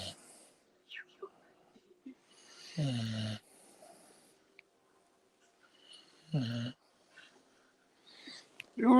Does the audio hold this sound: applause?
no